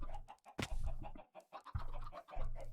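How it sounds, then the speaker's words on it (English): Chickens cluck in Minecraft, a blocky video game, with short bursty clucks repeating in an uneven rhythm, close and fairly loud, with brief gaps of near silence between them. "It's a big old chicken."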